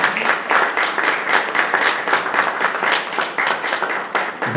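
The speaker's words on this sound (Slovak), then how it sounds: "Zaslúžil ste samozrejme potlesk." An audience at an architecture exhibition opening beside a swimming pool in Zvolen applauds steadily, dense rhythmic clapping from many hands that stays loud and even for the whole span.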